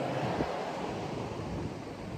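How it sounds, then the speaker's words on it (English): Steady wind rushes against the microphone outdoors in a park, a constant loud blustery roar with no talking. "It's windy out here."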